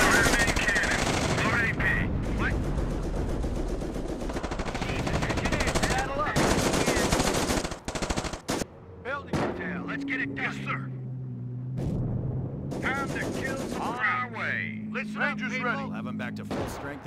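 Heavy gunfire and artillery from a Company of Heroes battle, with dense continuous bursts of machine-gun fire and explosions for the first half, then sparser shots, with game voices talking over the fighting.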